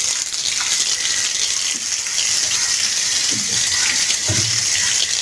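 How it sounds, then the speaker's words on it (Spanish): Water is poured from a container onto a patch of wall while a shower is being installed with hoses instead of pipes, making a steady, close, rushing gush with faint splashes near the end. "Miren, primero le vamos a echar agua."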